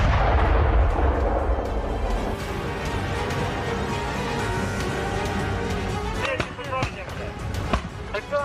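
Rockets and bombs hitting Russian military vehicles: a heavy, loud rumbling blast at the start, then a dense, noisy roar with sharp, cracking impacts toward the end.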